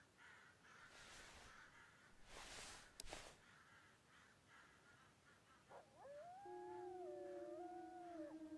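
Wolves howling in the hunting video game theHunter Classic, during a Rocky Mountain elk hunt: a long wavering howl rises and holds near the end, joined by a lower steady tone, over an outdoor ambience with crow caws earlier.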